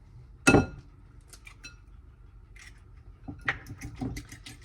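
An egg goes into a bowl of pumpkin puree for pumpkin bread, a sharp crack against the bowl followed by soft clinks and a light wet plop, close and quiet with no talking.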